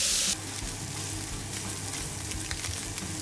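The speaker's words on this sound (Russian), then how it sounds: "сюда добавляем креветочки. Будем их обжаривать до красивого золотистого цвета" Shrimp frying in garlic-flavoured oil in a pan, a close, steady sizzle with light crackling that continues for a few seconds without any talking.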